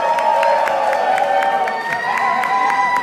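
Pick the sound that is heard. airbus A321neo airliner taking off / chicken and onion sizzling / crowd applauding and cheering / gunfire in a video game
crowd applauding and cheering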